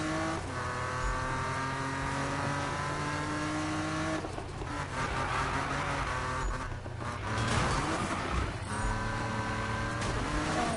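A race car in the Need For Speed video game drifts, its engine holding a strained, high rev with tire squeal, dipping and surging again as it swings through the turn.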